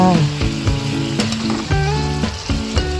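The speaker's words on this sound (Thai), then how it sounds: "แล้วก็ผัดไปแป๊บนึงค่ะ" Red curry paste and long beans stir-fry in a hot pan, giving a loud, continuous sizzle broken by the scrape and clatter of stirring strokes.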